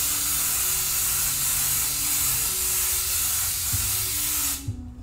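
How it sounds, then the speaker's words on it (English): An airbrush spray gun gives a test burst of black paint onto a shirt, a steady close hiss of air and paint that runs unbroken for about four and a half seconds and then cuts off abruptly. "do a test spray on one spot"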